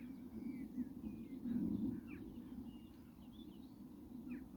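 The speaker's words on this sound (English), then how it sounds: "you can hear skylark." A skylark sings at Rhyl estuary: faint, continuous, distant twittering above the low steady rumble of a jet aircraft.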